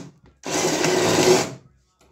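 A power tool whirs and buzzes for about a second, starting abruptly and stopping just as fast, while an impact wrench with a socket fitted drives garage door opener bolts up close.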